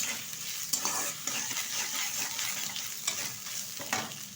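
Crushed ginger is stirred in hot oil in a pan while making chicken momo filling, a constant sizzle with scraping strokes of the utensil, close and steady, with no voices.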